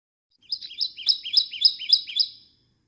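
Recorded song of a migratory yellow bird: a clear series of about seven rapid, high, slurred chirps in a steady rhythm, close and alone without talk.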